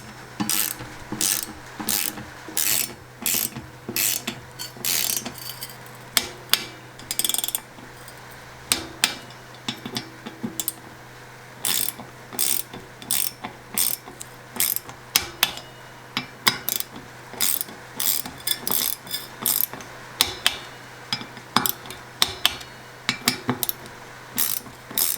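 A ratchet torque wrench tightens mountain bike hub bolts to 5 Newton meters, giving bursts of sharp, rapid clicking strokes that repeat in runs with short pauses between them, close by and with no voices.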